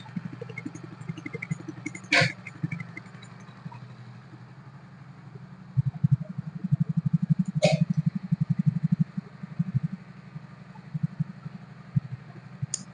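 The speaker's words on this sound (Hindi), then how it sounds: "ये बाइक इतनी मिसिंग कर रही है कि आप सोच भी नहीं सकते हो कि बाइक कितनी मिसिंग कर रही है।" A BS6 motorcycle engine running on its stand with a misfire, its low rumble uneven and stuttering, louder bursts of firing from midway through, plus two sharp metallic clicks.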